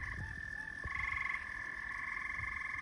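Tree frogs and pickerel frogs around a backyard pool in the northeastern US make a steady chorus of high, continuous trilling, with lower, nearer croaks and clicks scattered through it, fairly faint overall.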